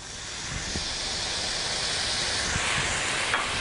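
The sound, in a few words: pan sizzling as it is deglazed with fish stock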